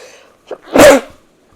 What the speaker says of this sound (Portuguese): Só um minutinho, vou espirrar.